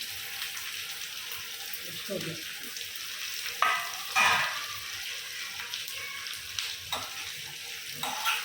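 Steady sizzling of tempering spices frying in hot oil, with occasional sharper crackles and faint stirring noises throughout.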